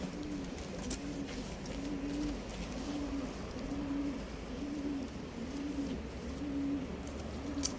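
Pigeons coo steadily in a repeating soft rhythm, roughly one call per second, over a low background rumble.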